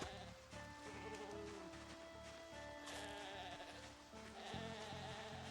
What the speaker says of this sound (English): Zombies, you leave that sheep alone.